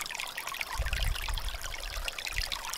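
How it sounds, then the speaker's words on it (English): A seasonal creek running through a rural off-grid property flows steadily with a soft, continuous trickle and babble of water nearby, no voices over it. "this creek that runs through here"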